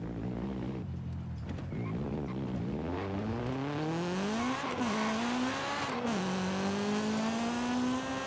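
Honda CRX with a B16 engine swap tearing down a volcano road in Forza Horizon 5, engine screaming loud and close through rising and falling revs, shifting gears, with brief tire squeal.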